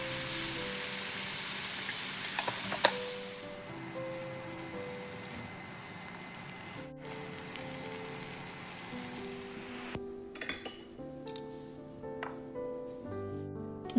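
Fried tofu and bell peppers stir-fry in a pan, giving a steady close sizzle with occasional spatula clicks while soft tonal music plays underneath.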